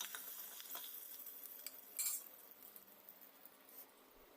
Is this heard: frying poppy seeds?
yes